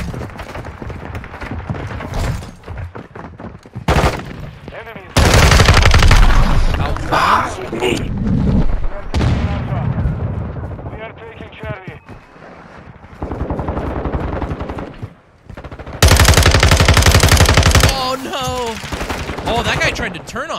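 Bursts of automatic and single gunfire in a multiplayer gunfight in Modern Warfare 2 on PC, loud rattling volleys broken by short pauses, with a player talking over much of it.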